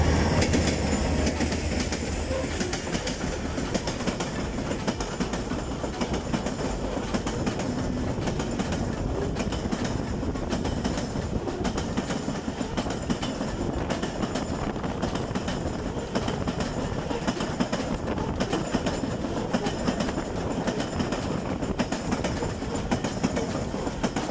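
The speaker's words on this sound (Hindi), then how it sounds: "एक मालगाड़ी गुजरने वाली है" A freight train rolls past Gaddar railway station near Karachi, its wagons clattering steadily with rhythmic wheel clicks and faint squeals, loud and close for the whole stretch with no voices.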